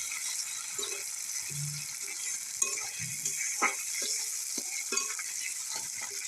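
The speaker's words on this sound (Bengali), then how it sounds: "টমেটো কুচি দিয়ে আবার কষায় নিতে হবে।" Spice paste with chopped tomato frying in oil in a Bengali kitchen, a steady soft sizzle under repeated scraping and clinking strokes of a spatula stirring the pan, close and alone without talk.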